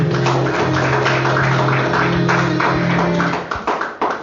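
A church congregation claps for Jesus, with dense, sustained applause over a low hum of music that thins into a few scattered, separate claps at the end.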